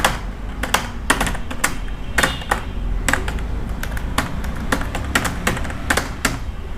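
A name is typed on a computer keyboard in quick, uneven bursts of crisp clacking keystrokes, close and clear with short pauses between clusters.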